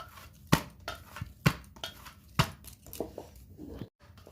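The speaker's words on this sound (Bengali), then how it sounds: "এবার আমি কটা লেচি কেটে নিচ্ছি" Dough for pea-stuffed paratha being cut into portions, three firm knife chops landing about a second apart, followed by softer scraping and handling sounds close by, with no talking.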